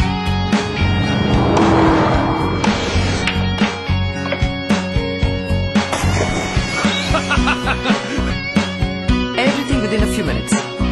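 A car drives through city streets, its engine and road noise loud and steady, under a continuous voice and background music.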